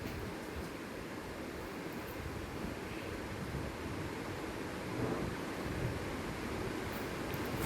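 Onions frying in oil for chicken dum biryani, a steady, even sizzling hiss that continues without a break at a low, constant level.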